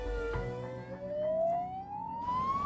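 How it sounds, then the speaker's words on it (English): A paramedic ambulance siren wails with a steady rising tone, close and clear, under low road rumble. "I'm going to chuck the sirens off"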